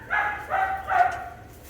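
Dog barking during a bark training session: three short, moderately loud barks in quick succession, fairly close, with no talking.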